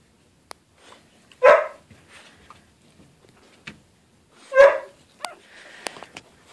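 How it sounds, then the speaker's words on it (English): An adult dog barks twice, a few seconds apart, somewhat distant in an otherwise quiet room, with faint small clicks and rustles between the barks. "Dad's barking in the background because he wants to see the puppies"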